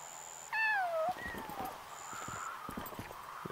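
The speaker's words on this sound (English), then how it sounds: "That's a cat." A cat in the game Yonder: The Cloud Catcher Chronicles gives one clear, loud, drawn-out meow. Lighter, quieter game sounds and footsteps follow.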